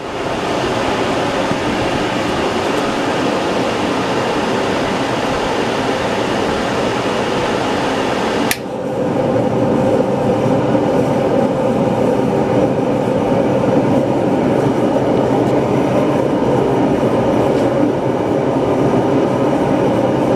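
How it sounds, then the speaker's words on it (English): A DeWalt DXH45FAVHC forced air propane heater runs in a garage on a 20-pound tank, giving a loud, steady broadband roar that continues unbroken throughout with a brief shift partway. "Here is the heater in use in my garage"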